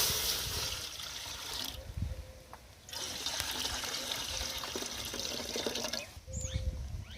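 Water pours and trickles at a street stall making ice gola, a faint, steady splashing stream that breaks off briefly and then resumes, with no voices.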